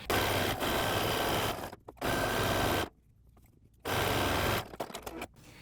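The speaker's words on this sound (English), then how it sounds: "So we're going to stitch along the arm size and along the neckline." A sewing machine stitches along the armhole and neckline of a maxi dress, running in steady loud bursts of about a second each, separated by short pauses and one longer stop.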